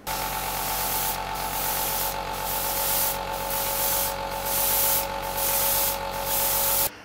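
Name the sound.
spraying lacquer paint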